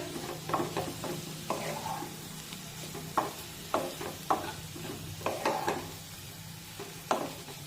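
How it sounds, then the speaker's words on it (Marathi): A spatula stirs a dry potato curry with fresh coriander in a pan, with soft scrapes and clacks at an irregular pace over a steady low sizzle, close up, and no talking. "वरून थोडीशी कोथिंबीर पण टाकूया मिक्स करून घेऊया"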